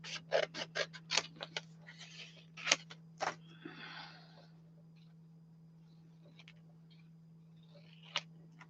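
Small scissors snip a tiny paper craft tag in a burst of short crisp cuts, then a few scattered clicks and rustles follow over a steady low hum.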